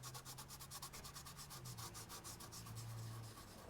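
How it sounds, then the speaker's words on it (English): A hand rubs dirt onto a Jeep XJ tire in quick, rhythmic scrubbing strokes, a close, continuous gritty rasping with no talk. "You rub a little dirt down there."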